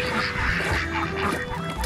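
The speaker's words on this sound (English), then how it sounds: "Okay, that's ducks and chickens." Ducks and chickens on a Wisconsin farm keep up a dense, loud chorus of overlapping quacks, honks and clucks close by, with steady background noise underneath and no pause.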